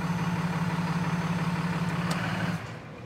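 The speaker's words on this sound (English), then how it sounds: "With the engine running at idle," A truck engine idles with a steady, close, low rumbling hum. The truck is fitted with a PH3 PowerHalt air intake emergency shut-off valve. The idle holds evenly for over two seconds, then drops to quieter background noise.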